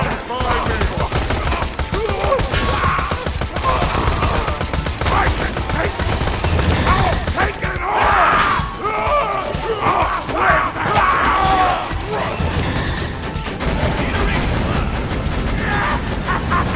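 SMG gunfire rattles in Borderlands 2 during a Fink's Slaughterhouse arena round, dense rapid bursts running nearly the whole time amid game yells and chaotic combat noise.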